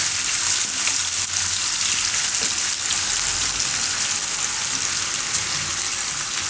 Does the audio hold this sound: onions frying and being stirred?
yes